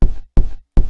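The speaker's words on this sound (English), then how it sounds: "Knock, knock." Three sharp, close knocks on a door in a horror video game, evenly spaced in quick succession, loud and dry with no voices.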